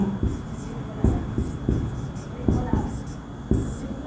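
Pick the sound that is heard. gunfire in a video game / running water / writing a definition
writing a definition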